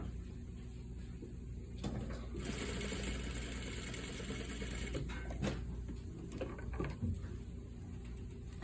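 A sewing machine stitches across the hem of a military-style pocket with a flap, a continuous close whirring run with a few clicks and handling knocks, no voices.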